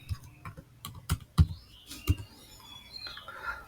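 Text typed on a computer keyboard into MS Word: a series of irregular, close keystrokes with a few sharper taps, heard without speech.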